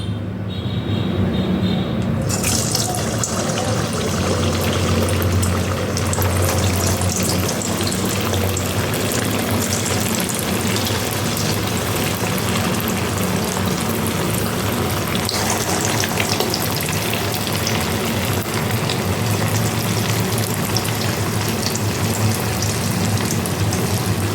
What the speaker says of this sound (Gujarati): તો ચાલો ટિક્કી ફ્રાય કરીએ.